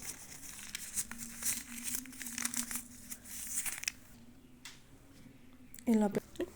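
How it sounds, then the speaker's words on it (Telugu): Paper crinkles and rustles up close in soft, uneven bursts as cloves are wrapped in it, ending in a louder crumple, with a low steady hum underneath. "కొన్ని లవంగాలు పేపర్లో వేసుకొని"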